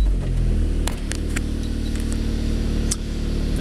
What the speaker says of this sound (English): Now we're going to go ahead and fire up the car